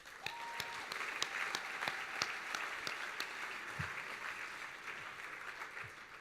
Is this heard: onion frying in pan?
no